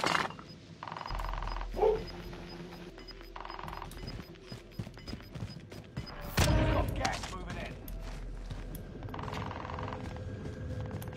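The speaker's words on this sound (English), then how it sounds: "Quit barking!" In Call of Duty: Warzone, a dog barks in short bursts amid sharp staccato pops and clatter, with people talking nearby.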